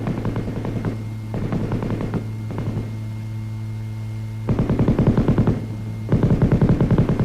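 Short automatic bursts from an M60 7.62 mm belt-fed, gas-operated machine gun, several rapid strings of shots separated by pauses over a constant low hum.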